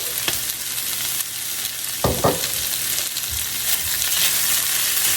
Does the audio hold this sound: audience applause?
no